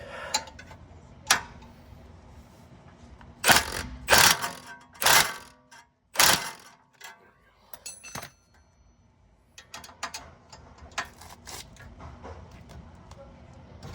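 A Milwaukee power tool tightens a control arm bolt on a 2014 Nissan Altima 2.5 S, firing several loud, short hammering bursts close by, separated by quieter clinks and handling noise.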